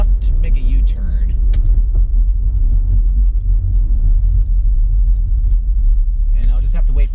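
A car drives and turns left into a U-turn on roads in Auburn Hills, Michigan, with a steady low engine and road rumble throughout and someone talking over it.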